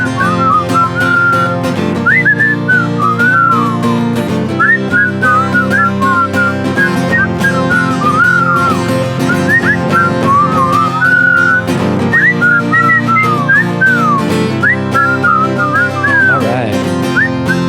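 Several people whistle a wavering, sliding tune together over steady background music, loud and close, with a brief spoken remark partway through.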